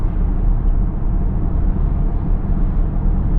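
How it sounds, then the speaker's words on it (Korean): Cabin road noise inside a Porsche Panamera 4 Sport Turismo driving on a wet road, a loud, steady low rumble and hiss of tires with no breaks, continuous and close. "젖은 걸 감안해서라도 한번 일반 주행 소음을 여러분께 들려드리도록 할게요"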